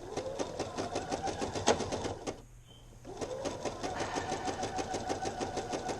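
A home sewing machine stitches a seam on a pattern-made pair of pants, running in a steady fast rhythmic hum with a brief pause midway before resuming.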